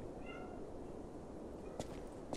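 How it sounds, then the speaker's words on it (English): A cat in the video game Lies of P gives a couple of faint, short meows, one early and one near the end, over a steady hiss of in-game ambience. "I hear a cat though."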